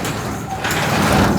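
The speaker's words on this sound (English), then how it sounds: "Door opens no problem at all." A manually opened garage door rumbling and sliding as it is raised, a continuous close mechanical scrape that grows slightly louder toward the end.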